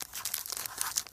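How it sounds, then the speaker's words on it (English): Dry crinkling and tearing of a Japanese trading card booster pack foil being cut open, a quick run of close, scratchy rips and crackles with no talk. "Try to cut the card."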